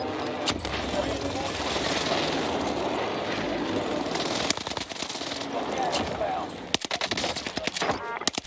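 Airstrike aircraft roaring overhead in the Warzone video game, a sustained loud drone layered with bursts of gunfire and sharp cracking shots toward the end.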